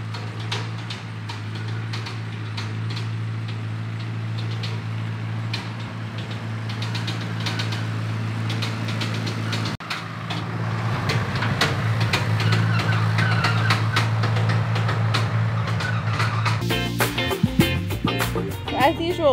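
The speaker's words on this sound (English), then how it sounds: "I hear Chris coming back and that sound does not sound good" An old tractor pulling a brush hog runs steadily throughout, its engine a loud, continuous, rough low drone with a harsher, rattling stretch toward the end.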